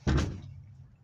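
A door moves with a short, sharp knock or thud at the start, then a fading low rumble as it swings, heard close and alone with no talk.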